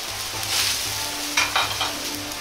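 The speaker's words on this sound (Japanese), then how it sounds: "沸騰したお湯に塩と油を少量入れ、チンゲン菜を入れていきます" Bok choy drops into a pot of boiling water salted and dosed with a little oil, giving a steady bubbling hiss with a couple of brief splashy bursts midway, close and alone.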